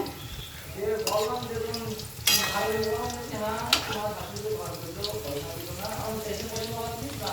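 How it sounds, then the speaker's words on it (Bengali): Chicken pakora fries in hot oil in a kadai, a steady close sizzle with occasional sharper crackles and pops, running beneath continuous talking. "আমার চিকেন পকোড়া লাল লাল করে ভেজে রয়েছে"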